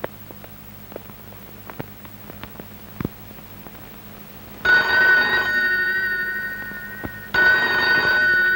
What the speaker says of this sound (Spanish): La señora de Moreno al teléfono